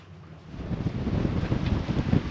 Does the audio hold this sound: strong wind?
yes